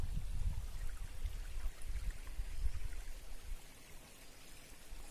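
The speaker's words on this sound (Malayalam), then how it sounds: "മുകളിൽ നിന്ന് വെള്ളം ഇങ്ങനെ താഴോട്ട് പമ്പ് ചെയ്ത് വരും" Water running down through a forest setting near an oil palm estate, a steady broadband rush with stronger low churning in the first half, continuous and fairly close with no talk.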